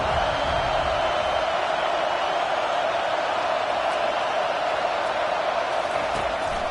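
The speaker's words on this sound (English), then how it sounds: "Here comes this home crowd as the defense tries to get off the field on 3rd down." Home crowd at a football stadium on third down, a steady, loud wash of roaring noise with no pauses and no distinct voices standing out.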